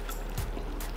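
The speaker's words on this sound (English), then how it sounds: "I'm going to wash my rice and then I'm going to pour it in." Washed rice is tipped into a Saladmaster pot of oil-free jollof sauce in one brief, wet, close splashing pour.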